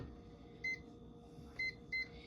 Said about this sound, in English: So I'm going to put this in the microwave to make my job a little easier